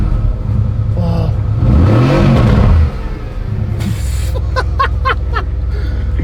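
A Mercedes-AMG V8 on a racing circuit revs hard, its engine note swelling loud for a few seconds, then dropping back to a lower drone, with voices and cabin noise behind it.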